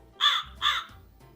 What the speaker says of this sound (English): The crow flaps its wings.